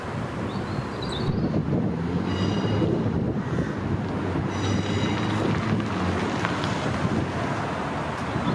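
Freight train passing on the Settle & Carlisle line between Carlisle and Skipton, a steady low rumble of wagons rolling by outdoors, heavy wind buffeting the microphone.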